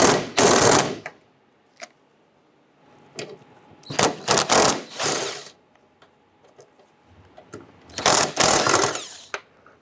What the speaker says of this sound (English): I used the same 13mm socket that we used to remove the 3 nuts on the front.